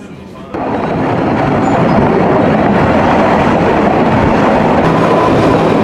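A train climbing on a mountain railway toward the highest point reachable by public transport, its steady broadband rumble and rolling rail noise filling the scene loudly and continuously after a quieter opening moment.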